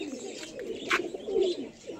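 A Giribaz pigeon from a breeding pair at home coos in a low, rolling murmur, near and fairly quiet, with a short brighter flutter midway and no talk.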